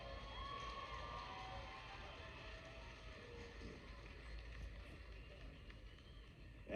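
Crowd cheering and clapping in an arena after an MMA fight, a steady, fairly faint roar of noise from a distance.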